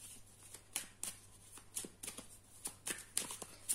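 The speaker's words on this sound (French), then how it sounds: "Alors, on me dit de brasser, parce qu'il y a des énergies de l'autre tirage." Tarot cards being shuffled by hand for a love reading, giving a run of soft riffling bursts at an irregular rhythm, close and fairly quiet with no talk.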